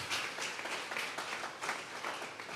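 A church congregation at a Sunday service claps together, a dense, fairly quiet wash of hand claps that swells and eases over a couple of seconds, with no voices over it.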